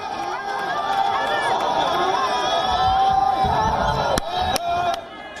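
An angry crowd of protesters in Baghdad's green zone roars in a sustained, dense mass of shouting and chanting, a few sharp bangs cutting through near the end before the noise drops.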